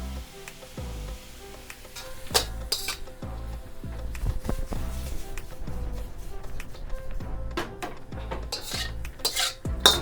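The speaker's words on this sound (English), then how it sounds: "So now I'm going to add some teriyaki sauce." Shrimp cooking in a pan for a hibachi-style dinner as teriyaki sauce goes in, with close metal utensil clinks, scraping and stirring over a steady low sizzle, the clatter coming in frequent sharp taps.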